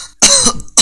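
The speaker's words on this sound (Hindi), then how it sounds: "दर्द में खांसते हुए कहता है" A man coughs in pain, a harsh burst followed by a second short cough, close and loud, from a dubbed Hindi animated film scene.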